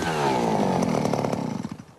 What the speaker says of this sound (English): drill deep into the ground to analyze changes in the permafrost